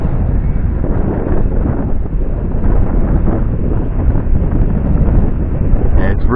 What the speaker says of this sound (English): Start to pick up a fair bit of wind now.